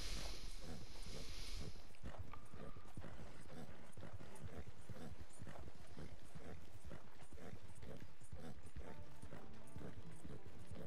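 Steady clip-clop of horse hooves in a western simulator video game, a continuous rhythmic trot under dense ambient game sound, fairly close and moderately loud.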